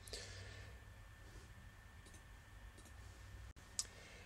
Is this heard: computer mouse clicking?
yes